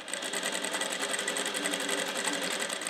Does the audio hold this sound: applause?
no